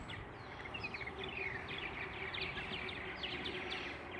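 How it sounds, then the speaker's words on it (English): House sparrows caught in a sparrow trap inside a pigeon loft give a busy, faint chatter of overlapping chirps against a steady background hum. "Lots of house sparrows in there that keep luring their brethren to their doom"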